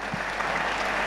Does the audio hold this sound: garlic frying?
no